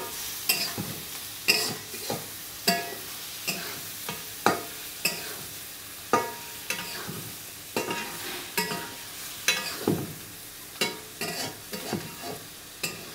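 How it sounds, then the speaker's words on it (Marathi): Prawn masala stir-fries in a pan over a wood-fired stove, a steady sizzle punctuated by regular sharp scrapes and knocks of the spatula, roughly one every second, close and clear with no voices. "आता आपण हे व्यवस्थित बाजूला व्यवस्थित परतून घ्यायचं आहे"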